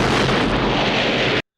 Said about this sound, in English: We then burn him up, and we explode him into 1 billion pieces.